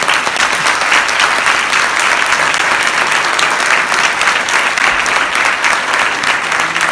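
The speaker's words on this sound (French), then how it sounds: "messieurs, dames, applaudissez-le." An audience at a short-film premiere in Reims applauds, a loud, dense and even roar of clapping from a full room that holds steady throughout.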